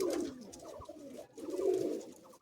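A male Madrasi pigeon coos in two rounded, throaty bouts, the second fuller and longer, close by with no voices.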